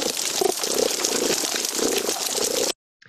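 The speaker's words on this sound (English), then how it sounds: "You hear that sort of purring," Underwater hydrophone recording of a sergeant major fish making a low purring sound over steady waterborne hiss and crackle, with pulses of low grunting rising and falling before the sound stops abruptly.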